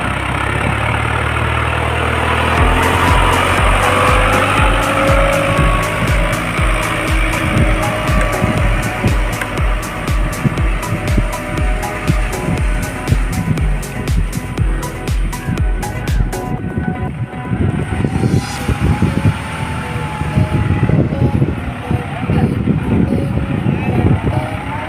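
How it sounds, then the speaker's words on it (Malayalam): A tractor pushing a wooden fishing boat down a beach into the sea at Shanghumukham, a loud chugging diesel engine with a rapid pulsing beat that revs and labours, mixed with surf and wind. "ട്രാക്ടർ കൊണ്ട് പുഷ് ചെയ്ത് വള്ളം കടലിലേക്ക് ഇറക്കുന്നു"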